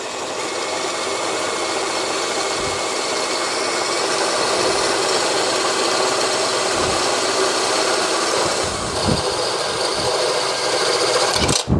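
An EMTOP compact cordless drill, 55 Nm class, bores a large hole with a 1/2-inch bit, producing a steady loud motor whine with grinding, slightly uneven load throughout.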